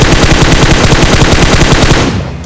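Rapid automatic fire from an M4 rifle in PUBG Mobile, a loud, dense burst of evenly spaced shots lasting about two seconds before cutting off, with no talking.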